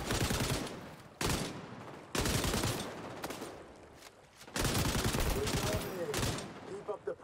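Light machine gun fire in the shooter XDefiant comes in long, loud sustained bursts separated by short pauses, with a player talking over the shooting.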